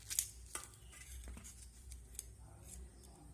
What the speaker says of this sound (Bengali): আর একটা এই চামচের সাহায্যে আমি এইভাবে শাঁসটাকে বার করে নেব।